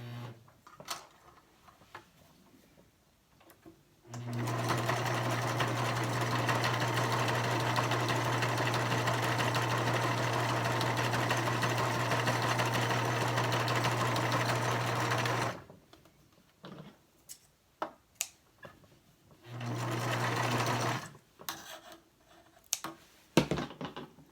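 A sewing machine stitches a 3D fabric face mask, running in one long steady burst of about eleven seconds, then stopping before a second short run, with quiet handling noises in the pauses.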